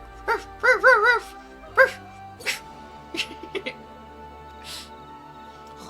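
A dog in the Final Fantasy XIV game gives a few short, high, wavering yips and whimpers close by, then quieter scattered clicks and soft game sounds over a low steady tone.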